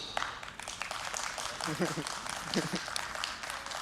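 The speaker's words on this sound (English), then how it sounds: "if you think that the ladies did best, clap, please." A high school debate audience at Indyfest 2022 claps to vote for the ladies' team, producing steady broadband applause throughout, mixed with crowd murmur and a few voices.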